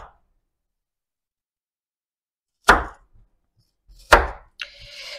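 A knife chops through raw potatoes to cut fries, two sharp, close thuds on a board a second and a half apart in near silence, followed by a faint scrape.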